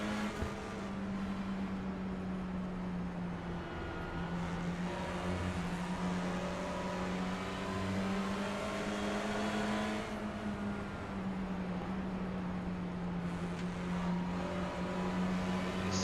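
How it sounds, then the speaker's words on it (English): Honda Civic Type R race car at Five Flags Speedway, a low, steady engine drone held at low RPM with slight pitch wavers as the clutch is eased in, fairly faint and distant. "You can actually hear the car clutch in."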